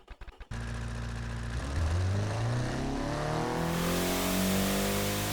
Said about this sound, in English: Did you hear the turbo spooling?